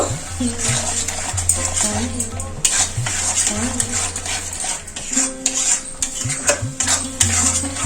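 Spiced paste of Kashmiri chili powder, turmeric and red chili with a splash of water stir-fried in oil in a pan, with steady sizzling and repeated scraping of a spoon against metal, under faint background voices.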